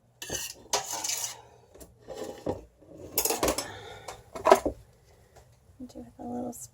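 A small spoon swirling soap batter in a container gives several quick clinks and scrapes against the sides, mixed with a person talking.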